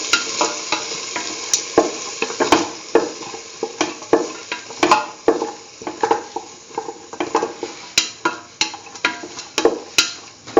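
Salted potato pieces fry in a pan for hash browns, giving a steady bright sizzle broken by frequent close scrapes and clicks of stirring.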